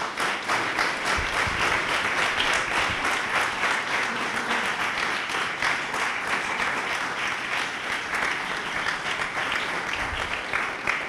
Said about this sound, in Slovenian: En velik aplavz, prosim, za goste